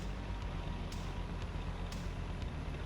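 T-80B tank driving on the Seversk-13 map in War Thunder simulator battles, a constant deep engine drone with faint higher clanks layered over it, steady and unbroken.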